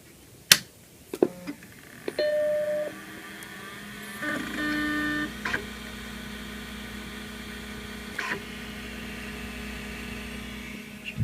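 Vintage Macintosh SE computer powering on: a sharp switch click, then a steady low hum with a high whine as the CRT warms up, plus a few faint clicks, close and fairly quiet with no talking.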